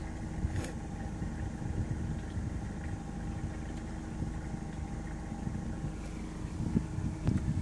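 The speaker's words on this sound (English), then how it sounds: "my Honda 20 horsepower engine is purring along" A small Honda 20 horsepower outboard boat engine runs steadily with a low, even drone, pushing the boat at about 3.5 knots over glassy calm water, continuous throughout with no voices.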